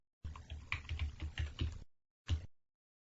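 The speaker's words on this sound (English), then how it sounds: "Let's press F8 on the keyboard" Computer keyboard typing: a quick run of close, crisp keystrokes clattering for over a second, a brief pause, then one more sharp keypress, with no talking.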